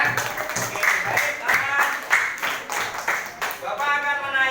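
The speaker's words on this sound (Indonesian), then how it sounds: "Oke, tepuk tangan semuanya ya." Students in a classroom clap together in a short burst of applause, a scattered run of hand claps with a voice talking over them near the end.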